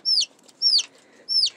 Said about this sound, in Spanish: Así que tenemos aquí al pollito Lucerito.